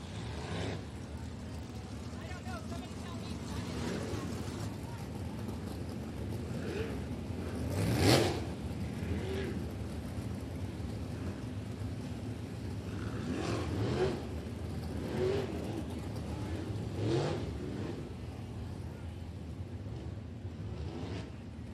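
Race cars circle Jacksonville Speedway under caution before a green flag, engines droning at a moderate distance with passes swelling and fading, while an announcer talks over the track noise.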